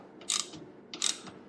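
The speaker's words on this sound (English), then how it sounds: "we're going to go ahead and tighten up these button head bolts here" Button head bolts are ratcheted tight on black Tusk upper and lower crash bars on a 2023 Kawasaki KLR 650, with two short bursts of close, crisp ratchet clicking separated by a pause.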